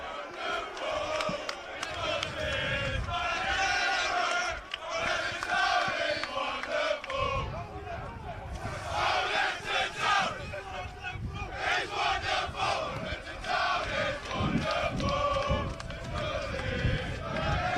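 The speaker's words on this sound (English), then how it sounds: "just drinking in all this noise from the crowd" Crowd at a live university rugby match between Loughborough and Nottingham roars and chants loudly, surging and dipping in waves, with a commentator's voice running over the noise.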